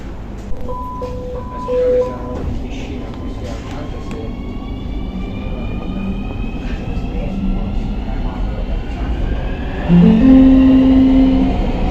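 Steady rumbling of a Nuremberg train interior in motion, with electronic chime tones near the start and a rising electric hum later, continuous and fairly loud, with German stop announcements.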